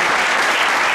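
Loud, steady applause from a church congregation during a Spanish-language service, with dense clapping that fills the whole moment and no talk.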